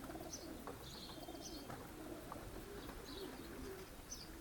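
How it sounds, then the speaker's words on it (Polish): Soft coos of racing pigeons returning from a race repeat through a steady outdoor hum, several low murmuring calls with a few higher chirps, moderately distant. "No ale już gołębie przyleciały"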